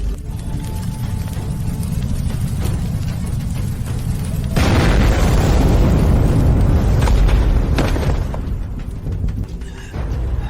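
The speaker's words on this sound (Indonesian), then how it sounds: "Tuan Huo akan meledak." Explosion sound effect in a Chinese fantasy drama, a heavy rumbling blast that swells suddenly midway and roars for several seconds before easing into a lower rumble, with no speech.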